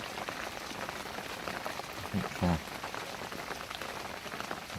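Steady rain falls on a lake, a dense, even patter that carries through the whole stretch, with a few brief spoken words rising over it partway through.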